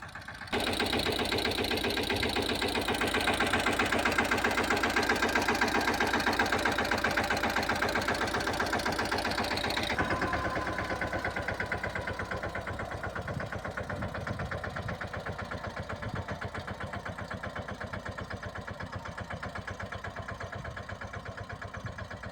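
A tractor engine idles with a steady chugging rhythm, loud at first, then slightly softer and rougher after a shift partway through, running without pause.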